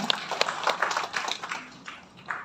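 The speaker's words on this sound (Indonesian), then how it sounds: "Tepuk tangan untuk kemuliaan nama Tuhan" A church congregation applauds, a soft, fairly distant patter of many hands clapping together that thins out toward the end.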